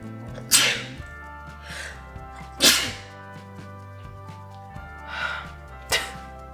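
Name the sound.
sneeze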